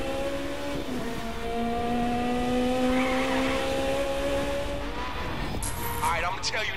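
Aston Martin driving in the racing game The Crew, a steady engine drone with shifting tonal whine, tire noise and a skid-like squeal toward the end, continuous throughout.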